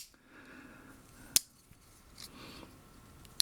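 A Walther MPK folding knife's liner lock gives two sharp, crisp clicks a couple of seconds apart, close and clear against a quiet, faint room background.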